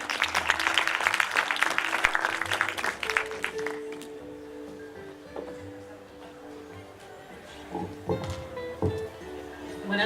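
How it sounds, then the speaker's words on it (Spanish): An audience at a talk on the memory of armed conflict gives a short burst of applause that fades after about three seconds, leaving quiet room noise, faint tones and scattered small sounds. "Un fuerte aplauso para María Victoria."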